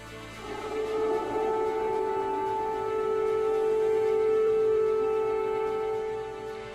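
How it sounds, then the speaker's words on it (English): Civil defense air raid siren wailing over Kyiv during an overnight airstrike warning, a steady sustained tone that holds loud and continuous throughout. "Sirens warning civilians in Kyiv as airstrikes approached overnight"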